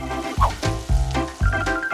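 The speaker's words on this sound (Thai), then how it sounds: "ตอกไข่ใส่กระทะ และก็รอให้มันสุก" Egg sizzling and crackling in a hot pan, with a few louder bursts of spitting fat rising over the steady fry.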